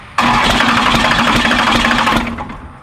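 A 12-valve Cummins diesel engine with new injectors fires up and runs with a loud, rough, uneven idle for a couple of seconds before tapering off, with no voices.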